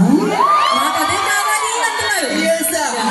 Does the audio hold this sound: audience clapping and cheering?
yes